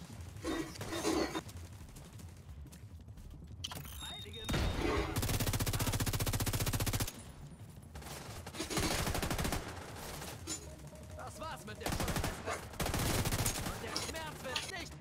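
Bursts of automatic gunfire aimed at an enemy in a video game, loud sustained volleys coming in several separate spurts with quieter gaps between them where voices talk.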